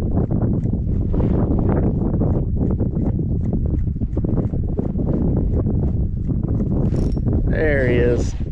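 Wind buffets a microphone on a fishing boat drifting in cold weather, a loud continuous rumbling roar that runs through the whole stretch, with a short voice near the end.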